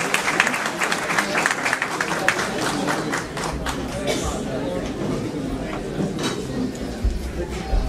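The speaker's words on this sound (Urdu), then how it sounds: "تالیاں." An audience at a naat competition in Holland gives sustained, dense applause that stays steady throughout, with crowd chatter and voices mixed underneath.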